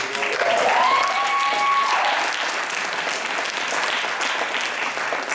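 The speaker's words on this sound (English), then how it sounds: "I just want to give a round of applause to my colleagues" An audience gives a sustained round of applause at an East Cleveland teen collaborative arts event, with steady dense clapping filling the whole stretch and a brief tonal whistle-like sweep near the start.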